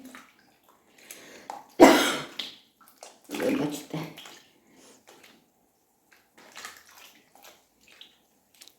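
Cold water gushes in short bursts, splashing into a basin of strawberries twice, then trickles faintly between quiet pauses.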